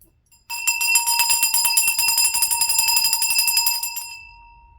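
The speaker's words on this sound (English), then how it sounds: "Let's ring the bell." A single bell is struck and rings with a bright, sustained metallic tone that shimmers and slowly decays over about four seconds.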